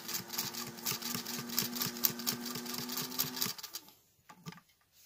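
A sewing machine stitches binding onto a placemat with a fast, steady run of even needle strokes for about three and a half seconds. It then stops, leaving only faint handling noises close by.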